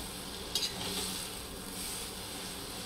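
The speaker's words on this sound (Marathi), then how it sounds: "आणि असं वर खाली करून घेऊया मिक्स एकदा चांगलं" Sevai vermicelli stirred and tossed in a pan for a masala breakfast, soft scraping and sizzling with a quick clink of utensil on metal near the start.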